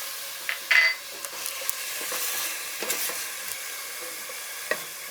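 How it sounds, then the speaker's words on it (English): Grape leaf stuffing mixture stirred in a pot on the stove, a soft continuous sizzle broken by scraping strokes and a few clinks of the spoon against the pot, close by. "We're just gonna stir everything on the stove before we stuff it in the grapevine leaves."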